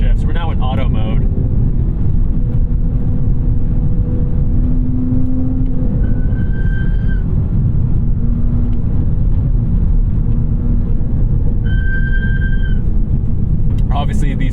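Track brake pads on a 2021 Toyota GR Supra squeal in brief high-pitched tonal whines twice over steady road and wind roar from inside the moving car, with someone talking.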